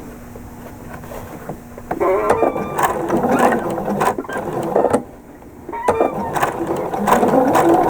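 An APQS quilting machine stitches down a row of prairie points along a knife-edge binding, its motor humming in a steady, close run that pauses briefly and resumes, with a short spoken phrase near the start.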